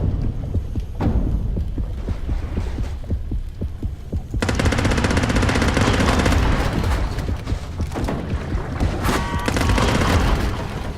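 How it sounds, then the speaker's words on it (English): An underwater machine gun in the shark-versus-diver game Depth fires a sustained, rapid, loud rattling burst over deep throbbing ambient rumble, starting after a quieter opening stretch. "My machine gun killed something!"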